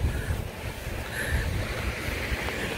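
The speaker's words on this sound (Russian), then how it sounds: "Пойдем сходим, к волнам сходим." Sea waves wash onto the shore at Berthier-sur-Mer, a continuous rushing surf mixed with wind buffeting the microphone, fairly close and steady, with no voices.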